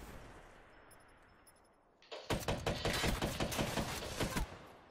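A machine gun fires in a video game, a rapid, loud burst of repeated shots that begins suddenly midway and keeps going, following a quieter stretch of low background rumble.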